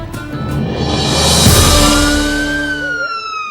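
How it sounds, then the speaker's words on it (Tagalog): A loud fire truck siren wails with a steady rising and falling tone, rising in volume toward the middle and then fading slightly, with background rumble. "Ang sirin sa bumbero maoy naghatag og signal sa mga molupyo sa barangay Haklupan"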